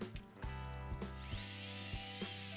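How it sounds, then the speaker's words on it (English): A small electric chainsaw cutting old fig tree branches, a close, loud buzzing motor that surges and bogs in short repeated bursts as it bites into the wood. "Using a small electric chainsaw, I removed most of the old branches."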